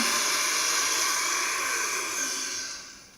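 A steady high whirring motor noise runs loud and continuous, tapering off slightly at the end, a blender spinning with no voices.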